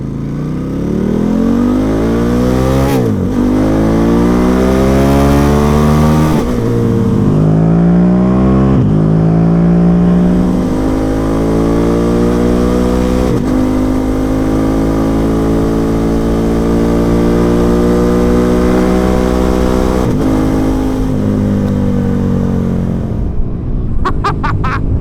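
KTM Superduke 1290R motorcycle with an Akrapovic exhaust accelerating hard down a straight, loud and close, its engine note climbing steadily through several quick gear shifts with brief dips between them.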